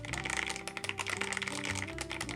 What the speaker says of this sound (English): the first instance of a suspension mount keyboard that I've ever typed on